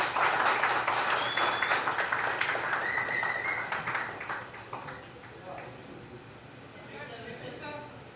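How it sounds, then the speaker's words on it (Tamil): Audience clapping at a film music launch event, a burst of applause that is strongest at first and thins out, with a voice speaking over it. "அனைவரும் கரகோஷம் எழுப்பி பாராட்டலாம்."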